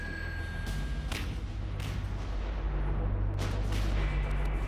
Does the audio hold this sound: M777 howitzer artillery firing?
yes